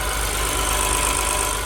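An Acura TLX Type S, stage 2 tuned with catless downpipes, idles in a short steady burst, a close, full, even engine rumble with no revving.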